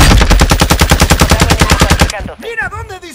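Rapid, sustained machine gun fire from a Call of Duty Warzone 2.0 match, loud and rhythmic for about two seconds before stopping, followed by a shouted voice.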